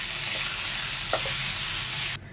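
Coarsely crushed raw mango (keri) chutney fries with spices in a pan, giving a loud, continuous close-up sizzle with faint stirring that cuts off abruptly just before the end.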